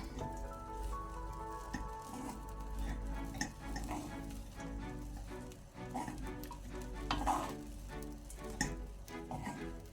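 Roasted nuts are stirred into sweet dry sevai in a pan, giving a soft, steady scraping and light sizzling with faint clatter throughout, quiet and continuous, with no talking.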